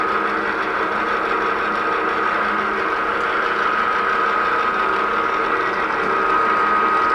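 A drill bit bores into metal at about 345 RPM, leaving a steady mid-pitched mechanical hum with a faint whine, constant and fairly close throughout, with no speech.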